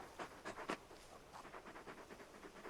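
A large wolf-like hound in the video game Final Fantasy XVI pants softly in quick, rhythmic breathy bursts, faint and steady throughout.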